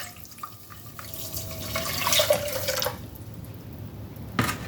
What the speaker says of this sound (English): if you add your basil, holy basil, anise seed, and your rosemary leaves, you add your water.